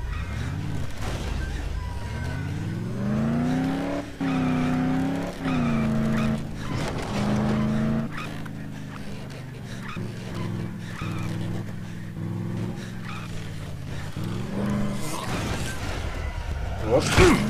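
A car is driven in the video game Dead Island, its engine droning and rising and falling in pitch with bursts of acceleration, heard alongside a voice talking for much of the stretch.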